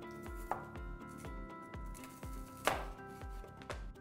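A knife chops vegetables on a cutting board in a steady rhythm of about two strokes per second, quiet and close, with no speech.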